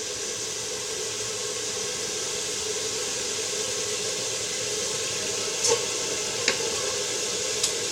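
Water poured into a hot pan over a high flame, the pan previously used for making syrup, gives a steady, close sizzling hiss with a few small pops, without talk.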